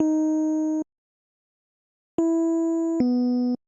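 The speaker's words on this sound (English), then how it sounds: "Let me pitch it up so you can kind of get the idea that it is the electric piano here." Three clean, bell-like electric piano notes at a higher pitch: one held note, a pause, then two notes in quick succession, fairly quiet and dry.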